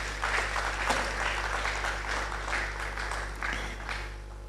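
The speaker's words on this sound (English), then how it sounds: "Let's give them a round of applause." An audience at a public lecture gives sustained applause after guests are introduced, a steady, moderately loud wash of clapping in a hall over a constant low hum.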